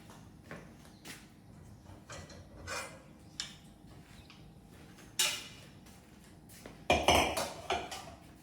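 Pans and utensils clatter in a home kitchen as a pan is picked up, with scattered metallic clinks and knocks, several sharp louder clangs near the end, over a quiet room background.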